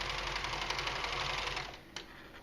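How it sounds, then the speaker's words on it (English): A serger sewing machine whirs rapidly and steadily, finishing the fabric pocket edges of a leather tote bag lining, then slows and stops near the end. "I'm going to serge it just so if you do have a serger, so you can see exactly what we're doing"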